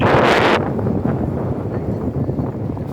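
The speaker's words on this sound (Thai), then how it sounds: "ลมแรงมากเลยจ้ะ ลมแรงมาก" Strong sea wind on the beach at Torrenueva Costa, Granada, Spain buffets the microphone in a loud, blustery roar that rumbles continuously throughout.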